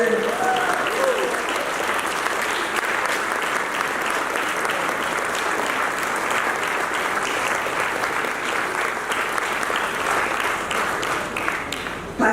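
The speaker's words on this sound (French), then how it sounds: "Levez-vous, on va vous applaudir" A large audience applauds continuously and evenly, dense and loud, at an anniversary gathering, sustained throughout without pause.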